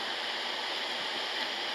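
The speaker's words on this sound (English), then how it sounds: "so much spray from the slide and the waterfalls that it coats the area." Waterfalls and a spillway slide throwing heavy spray on a creek in Lane County, heard as a steady, broad rushing roar of falling water, even and continuous, at a moderate level with no voices.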